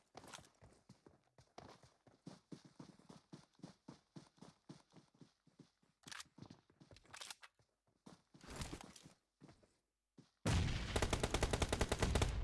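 Gunfire in a battle royale video game match, scattered single shots and short bursts, then a loud sustained burst of rapid fire near the end.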